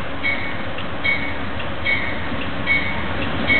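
An Amtrak train rolls past at Exeter, a loud, steady rumble with rhythmic wheel clicks recurring roughly every second, heard on its own without talk.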